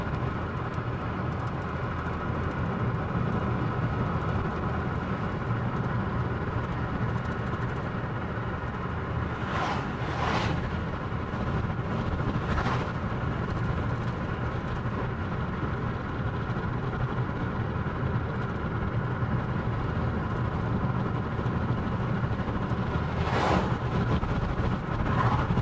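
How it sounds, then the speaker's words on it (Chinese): A long freight train hauling iron ore rumbles past steadily in hot Australian countryside near La Grange, a continuous low mechanical roar with a few brief squeals or clanks rising over it throughout. "看拉矿石的火车，看到了吗？"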